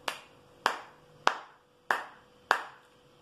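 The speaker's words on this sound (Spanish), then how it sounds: "Para poder cantarla vamos a necesitar nuestras voces y nuestras palmas para poder hacer el ritmo" Five sharp hand claps ring out one at a time at a steady, slow beat, each with a short decaying tail, setting the rhythm for a children's song about the Argentine flag.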